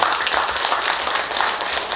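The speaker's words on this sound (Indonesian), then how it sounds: "Tepuk tangan dulu untuk yang baru." Audience applause at an Indonesian organisation's gathering welcoming new officials, dense steady clapping from many hands, fairly close and lively throughout the short stretch.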